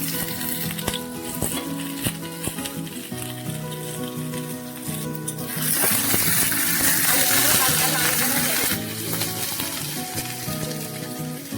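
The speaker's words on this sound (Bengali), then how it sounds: "আলুগুলো প্রথমে পোস্তর আলুগুলো নেড়ে চেড়ে ভেজে নিচ্ছি।" Potato pieces for a Bengali posto dish fry in hot oil with a steady, loud sizzle, while a utensil scrapes and stirs them in the pan in repeated strokes. The hiss swells noticeably partway through.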